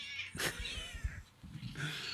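A cat gives a couple of drawn-out meows close to the microphone, fairly faint, with a soft rustle between them.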